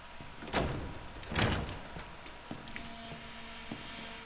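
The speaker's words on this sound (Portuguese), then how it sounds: "Abre a porta." In the Resident Evil 7 video game, a door opens and closes: two broad swishing bursts in quick succession, followed by a couple of soft clicks over a quiet steady ambient hum.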